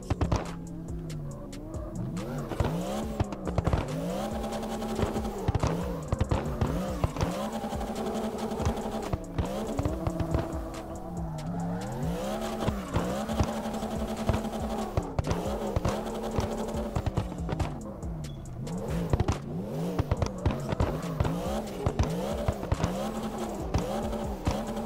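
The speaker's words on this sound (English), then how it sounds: "It's ridiculous driving in first gear the whole time" A car engine held in first gear in the drift game CarX Drift Online, revving up and down continuously with a high buzzing whine that rises and falls in repeated sweeps for the whole stretch, with no talk over it.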